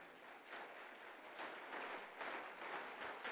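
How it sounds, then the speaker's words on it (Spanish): A church congregation applauding, a sustained wash of clapping that swells slightly and continues steadily at moderate distance. "Denle un fuerte aplauso."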